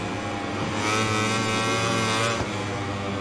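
Racing motorcycles in the video game MotoGP 21 roar in a loud, continuous high-revving engine drone, holding steady before briefly dipping and resuming, with no talk over it.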